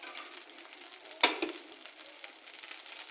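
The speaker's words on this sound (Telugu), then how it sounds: "దోశను కాల్చాలి." Pesarattu dosa fries in oil on a pan with a soft, steady hiss and sizzle, a brief louder crackle near the middle, faint and close.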